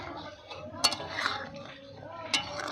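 A lid lifted and a spoon stirring rohu fish curry with potato and eggplant in a pot, soft clinks and scrapes of metal, fairly quiet and close.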